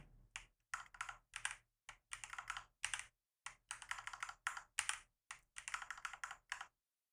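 Close-up typing on a computer keyboard while editing Swift code in Xcode: quick bursts of key clicks separated by short pauses, crisp and fairly quiet, then stopping near the end.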